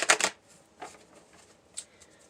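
Tarot cards shuffled by hand, with a loud close riffle at the start followed by a few fainter, scattered card snaps and slides in a quiet room.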